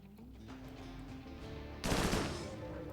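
Guns fire at a mechanoid centipede in the video game RimWorld: a low hum gives way to a sudden, dense burst of rapid gunfire that fades over the last second.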